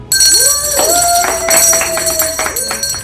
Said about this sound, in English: I am ringing the bell because this last phase of active treatment is done